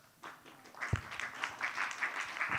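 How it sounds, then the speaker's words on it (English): Audience applause at a youth entrepreneurship forum in Kazan, a steady wash of many hands clapping at moderate distance, rising after a quiet start and continuing to the end. "A round of applause"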